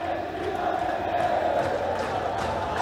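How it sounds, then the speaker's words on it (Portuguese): Grêmio football supporters in a stadium shouting and singing together with voices only, no instruments, a steady dense crowd roar with chanting that holds at an even level throughout. "Olha a torcida gritando"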